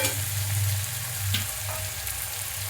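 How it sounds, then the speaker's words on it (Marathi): Onion with ginger-garlic paste fries in a pan for a chana dal dish, a soft, steady sizzle with one or two faint stirring scrapes, no talking. "झाकण काढते कांदा परतत आलाय"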